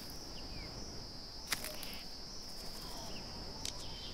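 A cricket chirps in a steady, continuous high-pitched trill, quiet and alone against a faint hiss of ambient background, with a couple of brief clicks.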